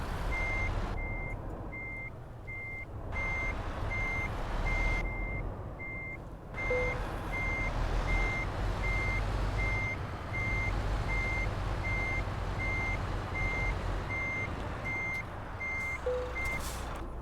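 In Euro Truck Simulator 2, a truck reverses toward a wall while a loud, steady reversing beeper repeats over a constant low engine rumble for the whole stretch. A soft hiss is heard a couple of times.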